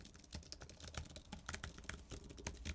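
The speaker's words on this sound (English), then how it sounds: "the keys feel pretty much identical to the other Magic keyboards" Typing on an Apple Magic Keyboard that belongs to a 24-inch M1 iMac. The key presses are quick, light and steady, and they sound quiet and close with no talk over them.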